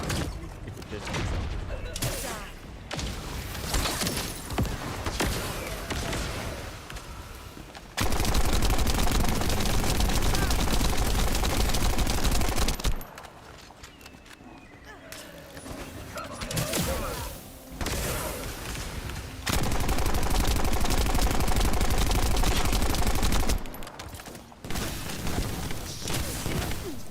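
Bursts of assault rifle fire in a video game's combat, rattling in long sustained runs separated by quieter gaps, with a player talking at times.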